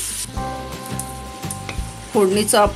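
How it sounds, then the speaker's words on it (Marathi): Mango pickle tempering is sautéed in a pan, giving a steady frying sizzle. Sustained tonal, voice-like sounds run over it, and two louder bursts come near the end. "फोडणी आपण चांगली अशी परतून घेऊया"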